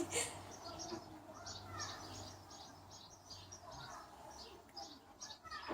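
Small bird chirping inside a kitchen ventilation duct, a quick series of faint, thin chirps repeating over a steady low hum of the vent.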